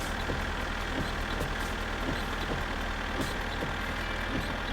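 A tractor engine in the video game My Summer Car holds a steady, loud, rumbling drone with a faint rhythmic chug throughout, close by and without talk.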